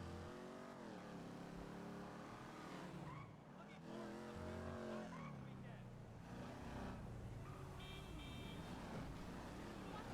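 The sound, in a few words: car engine sound in video game GTA Online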